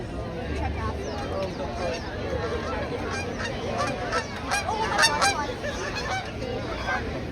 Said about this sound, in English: A couple of large geese flying by.